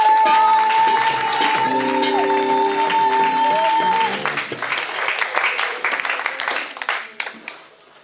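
A church congregation applauds and cheers at a service welcoming an archbishop, steady broad clapping over sustained organ or keyboard chords that fade midway, the applause thinning out toward the end.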